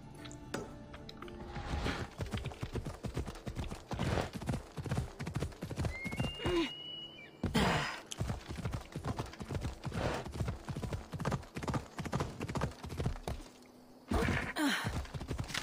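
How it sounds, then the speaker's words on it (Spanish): A horse gallops with fast, rhythmic hoofbeats in Assassin's Creed Odyssey, breaking off for a snorting whinny and a short pause before the galloping picks up again, loud and close with no talking. "Siempre se me olvida que este caballo no es inmortal."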